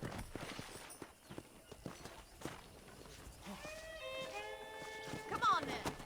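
Horse hooves in Red Dead Redemption on a ranch, soft clip-clop steps at a walking pace under quiet background sounds, with a short rising tonal sweep near the end.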